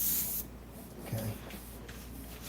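Hissing spray bursts while ocean waves are painted, loudest in a short opening blast and then continuing as a softer, steady airy wash for a couple of seconds.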